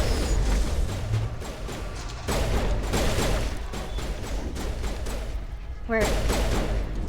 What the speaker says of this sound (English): I just realized that was grenades.